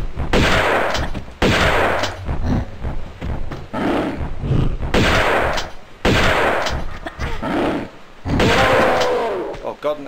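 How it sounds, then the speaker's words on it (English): Loud, repeated shotgun blasts aimed at a Yeti in a video game, several heavy bursts roughly a second or two apart, each followed by a growling roar, with a voice talking between the shots. "Let's get the shotgun ready, because there's a Yeti there"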